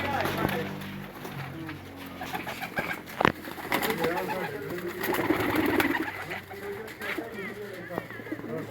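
Sialkoti flying pigeons coo and shuffle nearby, soft bird calls and wing or foot rustles heard beneath someone talking throughout.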